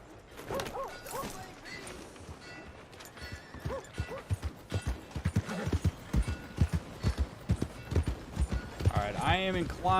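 Horse hooves clip-clop in a steady rhythm in Red Dead Redemption 2, with a horse's whinny near the end, while someone talks over the game sound.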